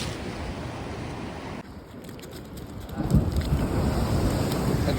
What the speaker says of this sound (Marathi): एवढी लाट मोठी मारते